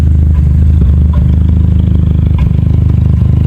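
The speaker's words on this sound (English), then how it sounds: "you can still hear it a little bit misfiring" MK5 VW Golf GTI engine running on a cold start with a misfire, heard up close as a loud, steady low rumble with an uneven, pulsing chug throughout and no talk over it.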